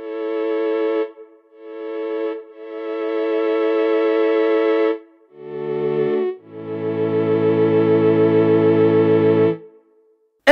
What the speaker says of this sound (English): And also the reverb.